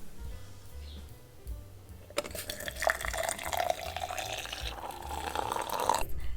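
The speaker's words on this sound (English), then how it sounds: "Let's pour it in." A drink is poured into a cup close up, a steady liquid fill lasting about four seconds with faint glassy clinks, following a quiet stretch with low background hum.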